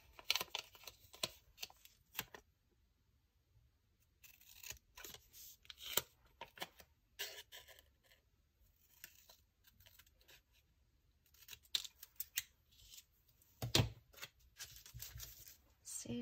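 Scissors cut a planner sticker at a desk, with intermittent snips and paper rustles separated by quiet gaps, close and fairly soft.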